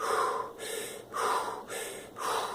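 Three slow, loud breaths in and out, drawn high into the chest and shoulders, each a clear airy inhale and exhale close to the microphone.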